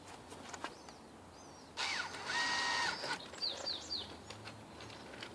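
A power drill drives screws through window flange holes into plywood in short whirring bursts, with a longer run in the middle, while birds chirp faintly in the background.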